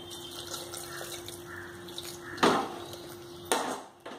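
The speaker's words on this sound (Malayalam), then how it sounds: "അതിലേക്ക് ഒരു അര ഗ്ലാസ് വെള്ളം ഒഴിച്ചു കൊടുക്കുക വേവാനായി." Water poured into a pressure cooker holding ash gourd pieces gives two short, fairly quiet splashing bursts over a faint steady hum in a kitchen.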